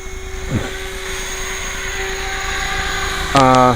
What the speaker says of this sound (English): That's what I'm flying on here, is a Copter X.